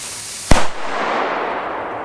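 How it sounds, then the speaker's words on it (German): A Donnerschlag firecracker lying flat on the ground goes off in one sharp, loud bang, followed by a short rumbling tail and a steady hiss of outdoor background. "Nochmal den Donnerschlag gegen den Kalaschnikow liegend."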